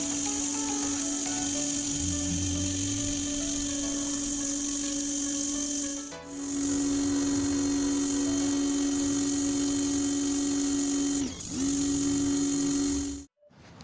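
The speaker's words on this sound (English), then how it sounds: "I'm using the pressure washer today" A pressure washer sprays a house wall during renovation work, a steady loud hissing whine with a strong sustained tone that cuts out briefly twice, then stops abruptly at the end.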